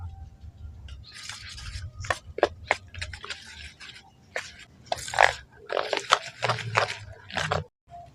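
Langcha sweet dough mixed with milk powder and baking powder being kneaded by hand, producing irregular wet squelching, slapping and sticky pops, close and uneven, with silent gaps between bursts.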